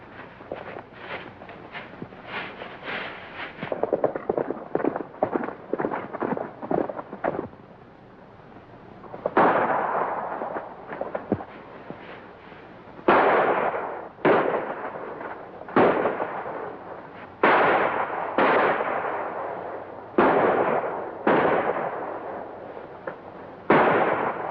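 Gunfire in a 1938 western film shootout: a volley of sharp, loud shots cracks out in a rapid cluster, then after a short lull, single heavy blasts ring out one by one at irregular intervals, each with a trailing echo.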